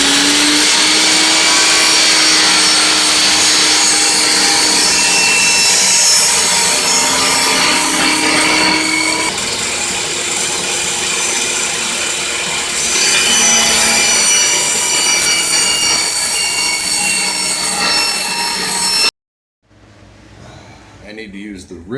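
A table saw rips wood while building a squirrel nesting box, its loud steady whine and rasping cut running for most of the stretch before cutting off abruptly near the end, leaving a quieter tail.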